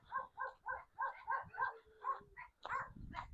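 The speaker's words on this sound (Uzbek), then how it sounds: "Qo'riqchi itlari ham bor mana. Qo'riqchi itlar ham qoladi." Guard dogs at a four-hectare rural estate with a fish pond bark in a steady run of repeated, fairly close barks, ending in a few sharper yelps, with no talking.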